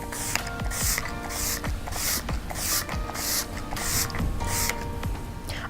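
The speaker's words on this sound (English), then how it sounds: "I'm just going to spray this all over my face" A Rimmel Stay Matte Fix and Go 2-in-1 primer and setting spray is misted onto a face in about ten short, evenly spaced hissing bursts, close and clear, with a faint click from the pump on each press.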